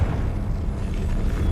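A Confringo fire spell bursts in Hogwarts Legacy with a deep, rumbling blast that holds as a dense low roar for about a second and a half, loud and close.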